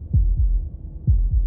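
A low, thudding heartbeat from the video game Slay the Princess beats in paired lub-dub pulses, two pairs in quick succession, deep and muffled over a faint hum.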